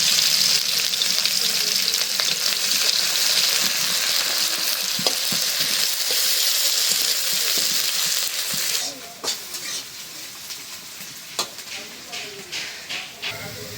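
Onions tossed into a little hot oil in a pan, cooked alongside potatoes for a hilsa fish curry, give a loud, steady sizzling hiss that drops to a softer crackle partway through, with occasional stirring clinks.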